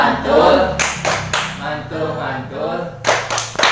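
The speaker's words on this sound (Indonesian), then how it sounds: "Tepuk mantul buat Bu Gita." Indonesian group clapping chant known as tepuk mantul, performed at a community parenting session on child protection; sharp rhythmic hand claps in bursts with chanted voices mixed in.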